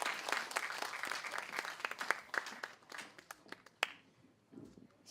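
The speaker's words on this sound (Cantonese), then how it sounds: "谢谢大家的掌聲" Audience applause at a community arts centre performance, a dense patter of clapping that thins into scattered individual claps before fading out.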